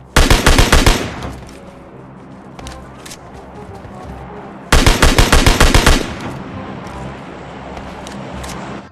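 Rapid bursts of SCAR rifle fire in the PUBG Lite video game, a dense volley at the start and another mid-clip, loud and close with no talk.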